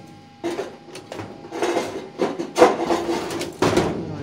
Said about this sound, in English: it's going to slide into this hole right here